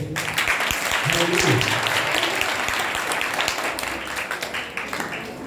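A church congregation claps together through a Sunday service, a dense, steady wash of applause that runs loud the whole way, with voices calling out and a few musical tones faintly underneath.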